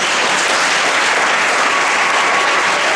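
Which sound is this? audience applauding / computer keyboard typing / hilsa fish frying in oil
audience applauding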